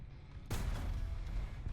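Gunfire in War Thunder while driving a StuG III G tank, a sudden heavy boom halfway through followed by a sustained roaring rumble, quiet overall, with no talking.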